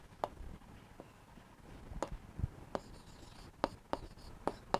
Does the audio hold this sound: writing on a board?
yes